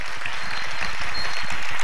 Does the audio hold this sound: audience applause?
yes